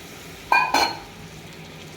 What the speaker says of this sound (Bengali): কলিজা একেবারে ভাজা ভাজা করে নিয়েছি, কষে এই একবারে ভাজা ভাজা করে নিয়েছি।